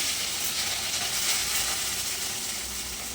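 Curry leaves dropped into hot oil for a tomato kurma, giving a loud, steady, hissing sizzle and spluttering that fills the space close up without pause.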